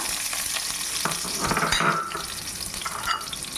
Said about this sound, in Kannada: ಇವಾಗ ಎಣ್ಣೆ ಬಿಸಿ ಆಗಿದೆ. ನಾವು 2 ಆನಿಯನ್ನ ಚಾಪ್ ಮಾಡ್ಕೊಂಡು ಅದನ್ನು ಹಾಕ್ತಾಯಿದ್ದೀವಿ